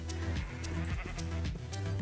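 Sheep bleating in the video game Minecraft, a few wavering bleats in quick succession, close and clear over a soft game background.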